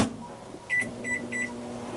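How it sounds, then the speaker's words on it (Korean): A microwave oven runs inside a camper van, its low steady hum under a faint hiss, broken by a few short quiet beeps partway through. "차가운 물을 받아서 전자레인지 한번 돌려볼게요"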